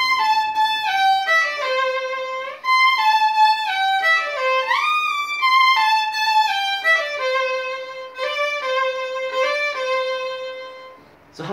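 A solo violin plays the melody of a song one octave higher, high and singing with slides and sustained notes, bright and close, phrases flowing with slight vibrato and no accompaniment.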